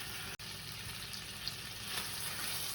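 Bear meat sears in a hot pan of oil, butter and mustard, giving a steady, close, hissing sizzle that runs continuously with a brief dropout near the start.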